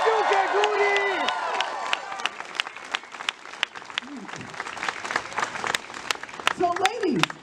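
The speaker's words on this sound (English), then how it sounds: "If I have an audience, let me know with a round of applause." An audience breaks into a round of applause, a steady patter of sharp claps running the whole time, with voices talking and calling out over it.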